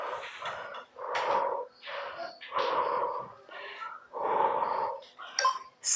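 Heavy, rhythmic breathing from a home abdominal workout with no equipment: a series of loud, forceful exhales and snorting breaths, roughly one every second, close to the microphone.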